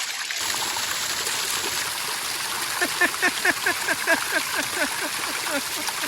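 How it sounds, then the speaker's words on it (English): Hot water drips and trickles into a cooler dome beside a jacuzzi under construction, a steady close splashing wash with a run of quick, bubbly drips partway through. "that'll be hot water. Kind of dripping into the cooler dome"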